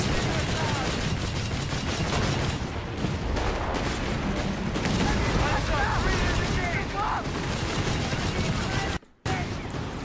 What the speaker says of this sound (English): Oh, big artillery in the back line.